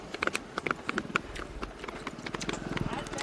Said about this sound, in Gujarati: એની આગળ થઈ ઘોડી એટલે એ પ્રમાણે ઘોડી 35 જાય છે.